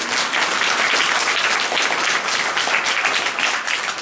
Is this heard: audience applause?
yes